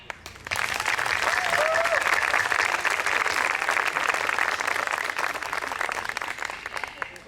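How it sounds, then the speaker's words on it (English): Audience applause at a university orientation day, a dense wash of clapping that starts abruptly and continues steadily and loudly through the whole stretch, with a faint voice briefly audible early on. "Give an applause to yourself for achieving such a great thing."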